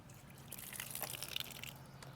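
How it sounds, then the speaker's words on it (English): Water sputters and drips from an outdoor faucet's vacuum breaker valve, a hissy splattering burst that swells in the middle then settles into a steady light trickle. "my actual vacuum brake let loose to let some of that water out"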